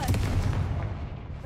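A Confringo blasting spell cast in the video game Hogwarts Legacy bursts out as a loud, booming explosive blast, rolling and rumbling for over a second with no talk over it.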